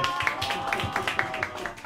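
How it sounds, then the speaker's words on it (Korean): A small audience at a labor party candidates' talk concert claps in scattered, uneven beats, faint and indoors, a thin round of applause lasting a couple of seconds. "박수로 청해 듣도록 하겠습니다"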